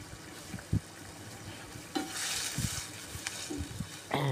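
Mushrooms cook in coconut milk with cassava leaves, sizzling and frying in a small pot while a utensil stirs and scrapes against it in occasional knocks.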